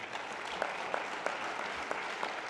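A steady wash of applause from an audience at an NHRA drag racing awards banquet, dense clapping that holds at an even level throughout with a few sharper claps standing out.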